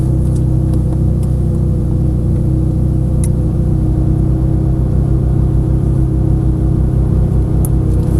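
A Ferrari 458 Italia's engine runs on a racetrack, heard as a loud, steady low rumble that holds evenly throughout with a faint whir on top and no obvious rise in revs.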